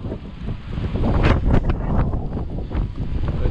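Wind roars and buffets the microphone while someone rides a Himiway e-bike along an exposed forest track among fallen spruce trees, a loud, steady rush with gusty surges and no talking.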